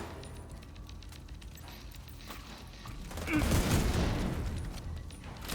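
Video game gunfire crackles as a burst of rapid shots and rattling impacts that swells midway, fairly quiet and heard alone with no talking.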